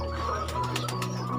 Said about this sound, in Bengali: এই সবগুলোই কোকা কবুতর।